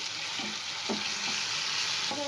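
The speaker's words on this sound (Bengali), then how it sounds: "ওই একই তেলে দিয়ে দেবো পেঁয়াজ কুচি," Chopped onion frying in oil left from frying eggs, a steady close sizzle with occasional light scraping of a spatula stirring the pan.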